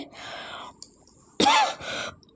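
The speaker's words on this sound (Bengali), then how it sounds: "তোমাদের সাথে কথা বলতে বলতে এত কাশি হচ্ছে" A woman clears her throat and coughs in a kitchen while cooking. There are two short, close, rasping bursts separated by a pause, with a faint whisper-like breath between them.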